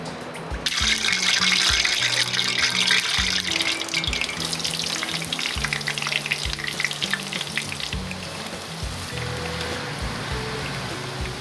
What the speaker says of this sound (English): the first stage is to deep fry the eggplant